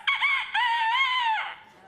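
A person's voice imitates a rooster crowing: one bright, drawn-out cock-a-doodle-doo in two rising then sustained phrases, close and loud, tailing off at the end.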